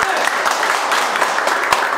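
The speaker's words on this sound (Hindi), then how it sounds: "मिलन सर के लिए जोरदार ताली बजाइए।" Audience clapping loudly for a teacher being introduced at a coaching institute event, a steady dense patter of many hands lasting throughout, close and fairly loud with no voices over it.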